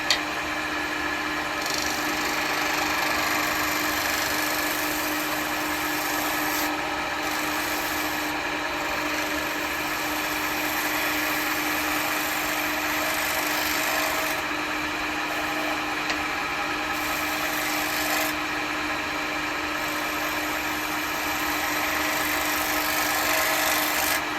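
A 1/2 inch spindle gouge with a 50 degree bevel cuts wood spinning on a lathe while a cowboy hat is turned, giving a steady, close, continuous hissing scrape that holds for the whole stretch without pause or voices.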